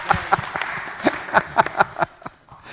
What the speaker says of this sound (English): you guys want to applaud?